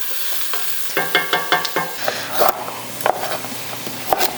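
Onions and garlic sautéing in a pan for a hearty winter soup, a low sizzle broken by a quick run of knocking spoon strokes and a few sharper scrapes, close up with no talk.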